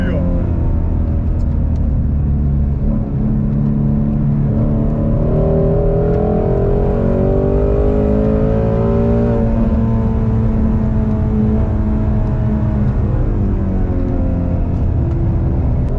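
Renault Clio lapping the Grobnik race track, its engine note loud and close, droning steadily and climbing in pitch through the middle as it accelerates, then holding a strong roar to the end.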